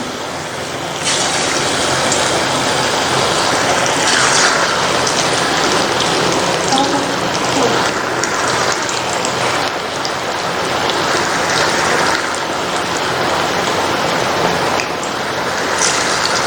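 Small hand-formed pakoras for kadhi frying in hot oil, a steady loud broadband sizzle and crackle that runs continuously throughout with slight swells, no voices over it.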